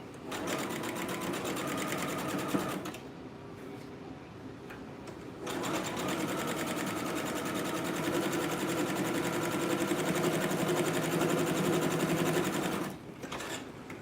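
Sewing machine running a zigzag stitch along a sleeve, a steady close mechanical whir in three long runs separated by brief pauses, with no voices.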